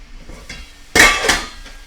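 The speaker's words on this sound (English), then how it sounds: "I'm going to grab a spatula here and kind of give it a little incisive cut here" A spatula chops into ground turkey in a pan, giving one sharp, close metallic clack and then a softer second scrape, with a quieter tap before them over low background noise.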